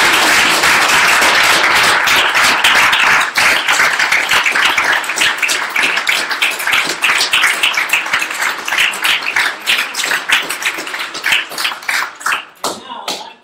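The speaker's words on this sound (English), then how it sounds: "So let's give them a round of applause." An audience at the Startup Weekend Brno event applauds volunteers, judges and coaches with loud, dense clapping that thins into scattered individual claps and fades out near the end.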